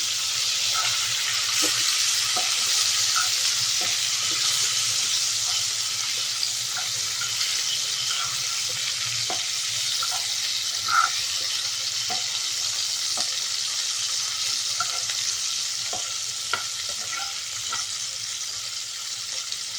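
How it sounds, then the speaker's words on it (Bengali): Okra fries in hot oil with a steady sizzle and faint crackles and pops, no voices. "ঢ্যাঁড়সটা আমার আস্তে আস্তে ভাজা হচ্ছে।"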